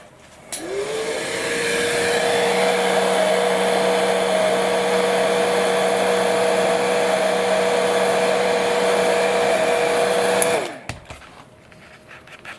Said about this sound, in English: I'll hit that with the heat gun again.